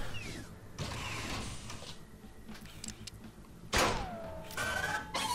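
A turret activating in SteamWorld Heist, heard as a series of mechanical clunks, creaks and whirring game effects with a louder metallic burst near the end, no talk over it.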